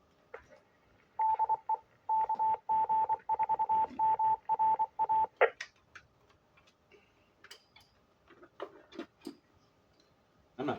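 A shortwave radio receiver puts out a steady tone broken into rhythmic beeps and clicks, followed by scattered ticks, static bursts and faint chatter.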